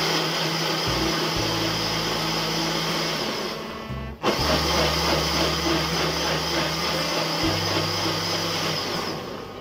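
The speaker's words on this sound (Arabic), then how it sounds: "نضرب كل ده بالخلاط تاني مع بعضه" A kitchen blender whirs steadily, blending a sauce meant for herring, with a brief stop around the middle before the motor starts again and runs on loud and continuous.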